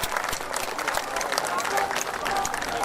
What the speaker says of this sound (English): I think a quick round of applause for our on the water operators is required.